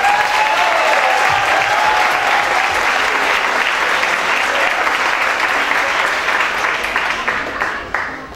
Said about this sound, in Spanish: quiero que le demos un muy fuerte aplauso a la música